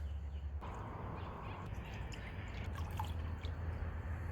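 Halved homegrown limes are juiced, giving wet squelching, dripping and trickling liquid sounds close by, soft and irregular over a low background hum, with no speech.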